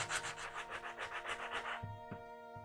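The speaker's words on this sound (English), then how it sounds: "take some sandpaper or sanding block and sand that until you get that nice and smooth" Sandpaper or a sanding block rubbing back and forth over a wooden piece for a porch sign, about a dozen quick rhythmic scratchy strokes, close and soft, then stopping.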